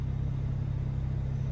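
Low, steady idle rumble from a BMW E93 335i convertible with the N54 twin-turbo inline-six and six-speed manual, heard close and even, with no talking.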